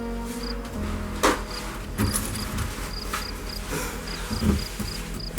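Small feeder crickets chirp indoors, a regular series of thin high chirps repeating steadily, moderately close, over a low background hum with a few soft knocks and rustles.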